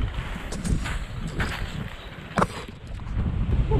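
Strong wind buffets the microphone in a constant low roar with gusty surges, plus occasional rustles and knocks nearby.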